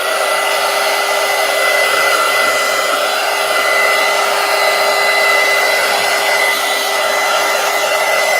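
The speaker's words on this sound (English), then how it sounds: "Let me plug in the heat gun." A heat gun blows hot air to dry coloring on paper, a loud, steady, close whooshing roar with a faint whine that holds unbroken throughout.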